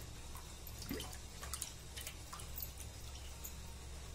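Faint, sparse drips of water fall as soaked rice is drained for making papad, a few soft irregular plops over a quiet background hum.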